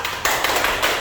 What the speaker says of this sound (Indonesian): Oke, boleh tepuk tangannya dong.